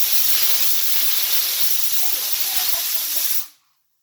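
Pressure cooker on the stove hissing steam loudly while potatoes boil inside, a steady close-up rush that cuts off abruptly after about three and a half seconds.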